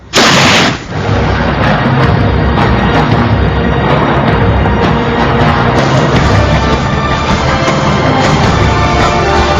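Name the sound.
gunshot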